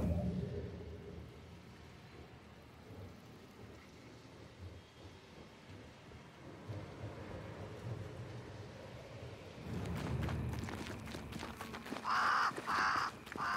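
A crow caws several times in quick, harsh bursts near the end, close and clear, in the video game Banishers: Ghosts of New Eden, after a long stretch of low rumbling storm ambience with rain and thunder.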